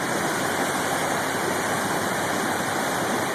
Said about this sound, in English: The water just keeps on rising and rising and rising.